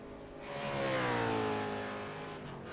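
Supercars race cars on Phillip Island in an advanced simulation racing game, engines droning steadily as they roll along the pit straight, one harmonic engine note swelling and then sliding lower as a car passes and slows.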